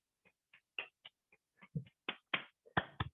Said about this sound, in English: I gotta clap closer to my AirPods.